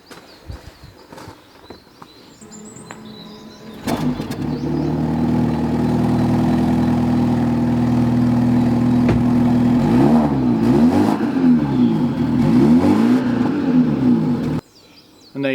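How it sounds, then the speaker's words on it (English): A BMW 330e plug-in hybrid with keyless start fires up and runs, a steady close engine drone with light revving swells, starting after a few quiet seconds and holding loud until it cuts off near the end, with no talking. "Let's start the BMW up."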